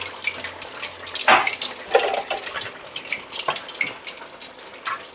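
Water splashes in brief bursts while a cooking pot is rinsed out and filled, irregular and near, with clatter in between and quieter gaps, no talking.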